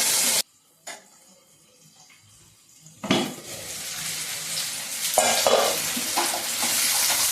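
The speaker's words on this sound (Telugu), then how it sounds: "ఈ విధంగా అయితే చక్కగా ఉడుతా ఉన్నాయి టమాటాలు" Chopped raw tomatoes sizzle and fry in a pan for a fresh tomato chutney, a soft steady crackle with spatula stirring and scraping against the pan, close and moderately quiet, starting after a brief silence.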